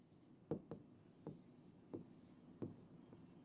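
Quiet handwriting on a board during a physics lesson on work and energy, a few short scratching strokes with firmer taps at irregular gaps, heard close and alone with no speech.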